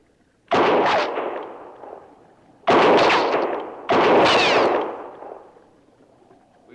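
Three loud gunshots in a western film set at Fort Laramie, each a sharp crack followed by a rolling echo that fades, spaced a couple of seconds apart.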